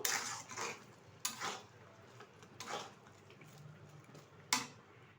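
Spoon clinks and scrapes in a pan as sweet jorda vermicelli is mixed with fried cashews, raisins and grated coconut, a few sharp metallic taps over a soft, steady stirring rustle, close and moderately quiet.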